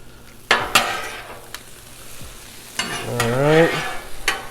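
Shrimp and vegetables are stirred on a Blackstone griddle, with steady sizzling under sharp metal spatula scrapes and clinks in a few bursts, close and fairly loud.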